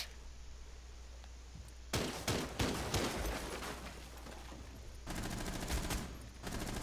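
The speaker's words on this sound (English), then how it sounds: "They're shooting from the closet" Bursts of automatic gunfire in a Rainbow Six Siege house match, with a sustained volley followed by a pause, then a second loud sustained burst, close by and without talk.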